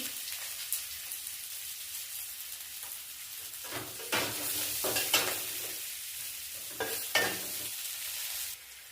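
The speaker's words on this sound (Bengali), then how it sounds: "ওই তেলের মধ্যে আর একটু জিরে ফোড়ন দিয়ে দিচ্ছি পেঁয়াজ কুচিটা দিয়ে দিচ্ছি" Chopped onion and cumin seeds frying in hot oil left after frying paneer, a steady crackling sizzle broken by several louder stirring scrapes in the pan, close up and without talk.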